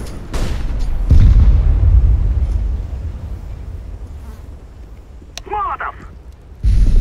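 Flashbang grenade detonating in CS:GO: a loud, heavy boom with a sustained low rumble, followed later by a second burst, over a constant game-noise background, with no talk.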